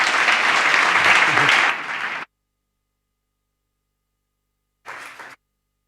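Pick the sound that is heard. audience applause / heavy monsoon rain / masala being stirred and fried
audience applause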